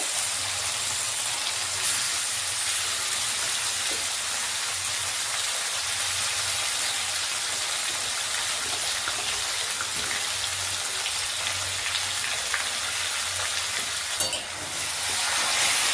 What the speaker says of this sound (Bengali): এটাকে ভালো করে কষে নিতে হবে যতক্ষণ না মশলা থেকে তেলটা ছাড়বে।